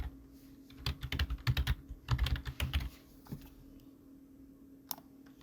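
Computer keyboard typing while entering text in an InDesign layout, with two close bursts of rapid key clicks followed by a few isolated taps and near silence.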